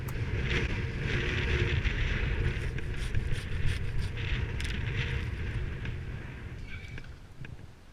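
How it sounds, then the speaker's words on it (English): Wind gusting through tall coastal redwood trees, a steady broad rushing roar that swells and holds for several seconds before easing slightly, with buffeting on the microphone. "All of a sudden the wind started picking up."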